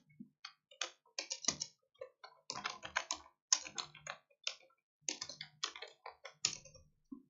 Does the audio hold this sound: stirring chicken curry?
no